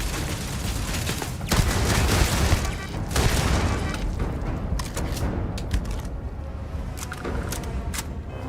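Turret gunfire in the Starfield video game, with repeated bursts of shots and heavy booms running the whole time, loudest early on and then steadier, over a dense combat soundscape.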